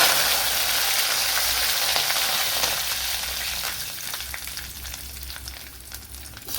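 Curry leaves drop into hot sesame oil in a pan and sizzle loudly at first, then the hissing crackle slowly fades over several seconds, with no voices.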